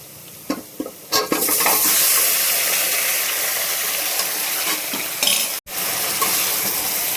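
Mutton tipped into a pan of browned onions sets off a sudden loud hiss and sizzle, with stirring scrapes and clatter, then a sustained close frying roar broken by a brief gap.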